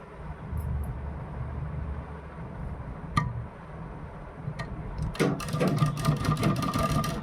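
A sewing machine stitching a kurti neckline with buckram starts up near the end as a fast, steady run of close mechanical ticks. Before it come a low background hum and a few isolated clicks.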